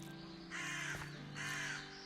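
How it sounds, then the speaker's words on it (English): Crows caw twice in a video game, two harsh drawn-out calls about a second apart, fairly quiet over a low steady background drone. "Crows! How nice."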